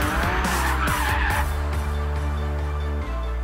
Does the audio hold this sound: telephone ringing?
no